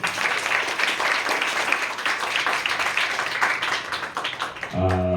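A crowd at an award function for exam achievers breaks into dense, loud applause that holds steady for several seconds, then drops away as a voice starts speaking.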